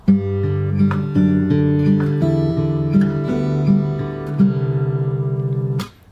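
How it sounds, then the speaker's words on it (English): Fingerpicked acoustic guitar playing a song intro, with bass notes, melody and ringing open strings woven together, steady and close, ending on a final sharp pluck. "So all together it sounds like this."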